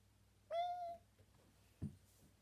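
A Minecraft ocelot gives a single short meow-like cry, clear and fairly close, followed by a brief soft thump; otherwise quiet.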